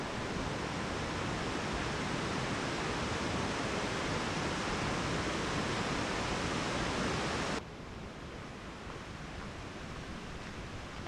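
Water pouring over the Lake Julia Spillway in DuPont Forest, North Carolina, heard from a bridge as a dense, constant roaring rush that drops slightly in level partway through, with no talking.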